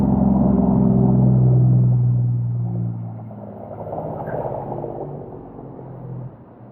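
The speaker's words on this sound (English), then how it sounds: "These are the big trucks that are going past all night." Big trucks passing on a road at night near a caravan park in Bombala, a loud low rumble that swells and fades as one passes, followed by another approaching and receding, with no one speaking.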